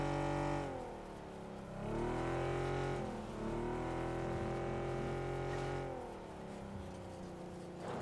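A car engine drones in the video game PUBG, its pitch falling and rising through gear shifts as the vehicle drives past at moderate distance, fairly loud and alone with no speech.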